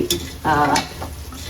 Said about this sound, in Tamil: ஸோ வெங்காயம் வதங்கிட்டு இருக்கு.